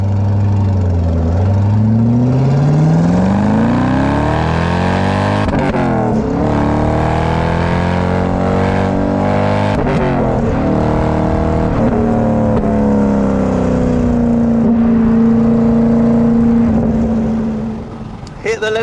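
A 6-litre two-valve pushrod V8 in a Chevrolet Corvette C5 revs up loud and close, its pitch sweeping up through the gears with a brief stutter before settling into a sustained drone.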